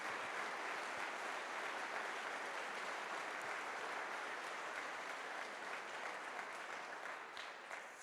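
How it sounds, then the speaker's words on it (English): Sustained applause from an audience at the grand opening of an agricultural innovation shop, a dense, even wash of clapping that holds steady and fades slightly toward the end. "Can we just give a round of applause for Greg Teveen really quick?"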